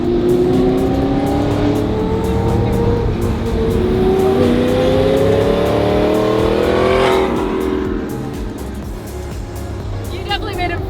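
A Lamborghini Murcielago accelerates hard, its engine note climbing steadily and loud and close for several seconds before easing off, with people talking over it.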